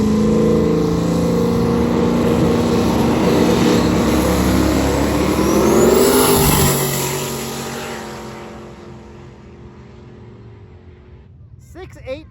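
A drag racing car's loud engine roars steadily, then rises in pitch and fades into the distance as it pulls away down the strip, with crowd noise faintly behind it.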